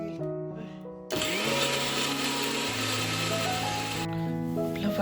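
Kitchen mixer grinder blending a spice paste with black pepper for mutton, a loud steady whirring roar that kicks in abruptly and runs for about three seconds over background music.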